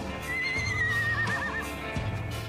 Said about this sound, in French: Le cheval, un animal farouche, habitué des grands espaces, mais domestiqué depuis des milliers d'années.